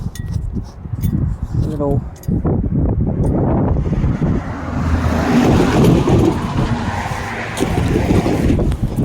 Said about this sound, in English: So, I'm gonna let these cars pass across the road.